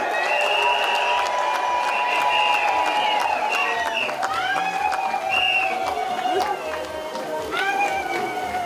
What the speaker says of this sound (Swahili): Simupige makofi na upige duru.